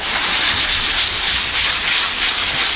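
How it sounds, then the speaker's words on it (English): Continuous abrasive sanding on a car's metal hood, a loud rhythmic scratchy hiss rising and falling with each stroke. "I'm in the process of sanding down the hood, as you can tell."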